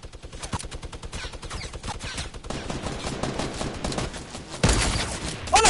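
Rapid gunfire in a video game with a sniper rifle shot among the volleys, a dense run of sharp, loud, close reports, with a heavier burst near the end.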